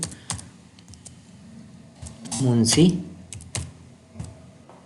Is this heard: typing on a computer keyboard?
yes